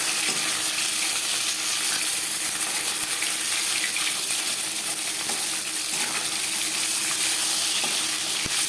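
Katla fish fried fairly crisp in a pan, giving a steady close hiss of oil with a few small clicks and pops running throughout, no voices.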